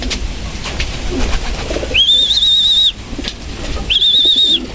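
Racing pigeons coo near a loft during a club training release, with two long clear whistled coos standing out over a background of ambient outdoor noise.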